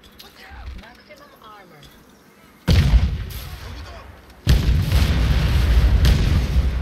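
A grenade blast in the shooter game Crysis, heard as a sudden loud booming burst followed by a second heavy explosion and sustained rumbling noise, after quieter background game sounds.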